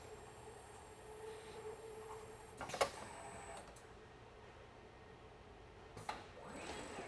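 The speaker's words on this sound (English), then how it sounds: "the press will come around, do the second rotation, and then quit" A ROQ screen printing press rotates through a multi-print cycle, a quiet mechanical hum broken by two sharp clunks and bursts of hiss as the press indexes around.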